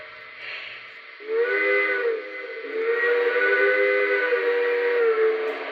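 A Lionel Legacy L1 model train steam whistle sounds a soft breathy note, then swells into a longer chime-like blast with a hissing edge.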